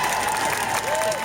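A crowd claps in a dense, continuous wash that stays loud throughout, with a faint high tone running through it and no distinct voices.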